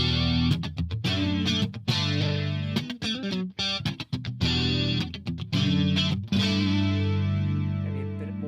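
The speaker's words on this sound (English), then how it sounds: "you hear that with a bit of chorus on" Electric guitar run through a PolyChrome DSP chorus effect, a distorted riff of choppy chords and stops ending in a sustained, shimmering chord.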